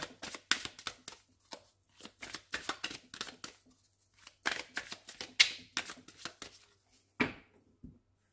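A deck of oracle cards is cut and handled quietly up close, giving a series of short, crisp riffling snaps and card taps with brief pauses between them.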